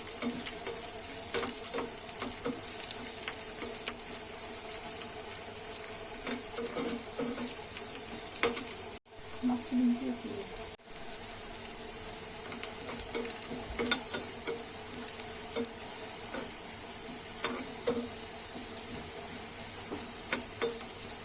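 Garlic roasting in a pan for a Maharashtrian groundnut chutney sizzles steadily and close for the whole stretch, with a couple of brief gaps and occasional stirring scrapes, and no one speaks over it.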